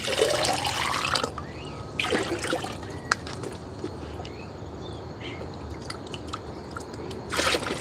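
Water splashing and trickling as a watering container is rinsed out during outdoor gardening, with bursts of pouring and sloshing, drips in between, and no voices.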